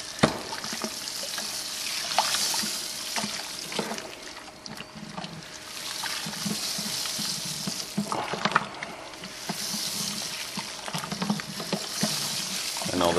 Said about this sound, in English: at 167 degrees in the mash tun, the water, we are going to mash in all of our grain.